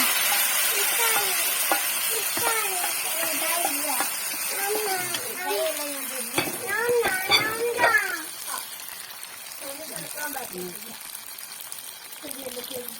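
Mustard-seed tempering poured into raw banana erissery, a Kerala curry, gives a steady, moderate sizzle and crackle heard beneath someone talking throughout.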